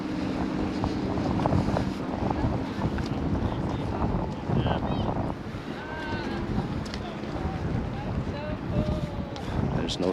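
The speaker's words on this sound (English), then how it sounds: "There's a lot of wind." Strong wind buffeting the microphone beside the Peace River near a bridge, a loud continuous rumbling roar with faint whistling tones and distant background activity.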